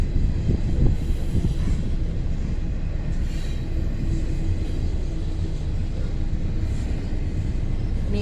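A freight train rolls through town close by, a loud steady rumble of wheels and railcars that runs the whole time, with faint squeals on top and no voices.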